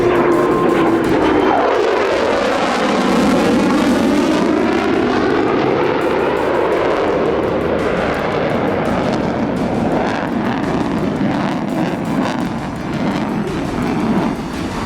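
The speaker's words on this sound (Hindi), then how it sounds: "आसमान में उड़ते इस शाहकार को गौर से देख लीजिए। चीन के इस बाहुबली को J-50 के नाम से जाना जाता है।" A J-50 sixth-generation Chinese fighter jet flying overhead, a loud, continuous roaring engine rush that swells and shifts in pitch as it passes, dominating throughout.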